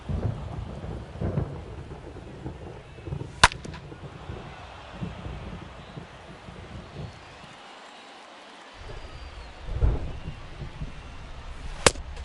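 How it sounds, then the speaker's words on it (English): Heavy rain pours steadily during a baseball game in MLB The Show 22, with sharp cracks of thunder cutting through twice and a low rumble rolling in near the end. "This rain is not letting up."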